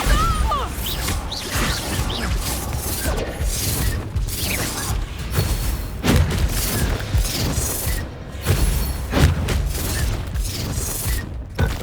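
Bombarda blasting-spell explosions erupt repeatedly in the video game Hogwarts Legacy, loud booming crashes and debris bursts amid ongoing combat effects, with a brief voice among them.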